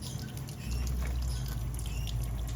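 Water spitting and pouring from a water heater's temperature/pressure relief valve, a steady hissing liquid gush that grows louder partway through, close by with no talk.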